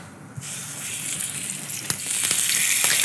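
Four slices of pork neck sizzle and fry in olive oil in a very hot, nearly smoking pan, with a loud, steady crackling hiss that swells as the meat goes in and keeps building.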